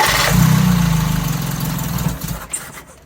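A 1984 Toyota Tercel SR5 wagon engine turns over and runs with a low, steady idle, loud and close at first, then settling and fading slightly before sputtering toward the end.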